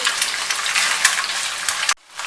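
Chicken for fried rice crackles loudly in a hot pan, a dense continuous sizzle that cuts off abruptly near the end.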